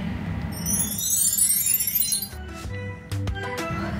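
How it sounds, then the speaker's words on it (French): Glasses clink together in a celebratory toast during a playful kitchen scene about a magic mermaid potion. A few bright, sharp chinks ring out close by over a soft background hiss, with no voices. "Bah trinquons justement aux sirènes."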